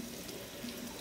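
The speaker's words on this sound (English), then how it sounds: "now I've got cold water going on them" Cold tap water runs over potatoes in a kitchen sink to rinse off starch, a quiet, steady hiss of flowing water throughout the brief moment.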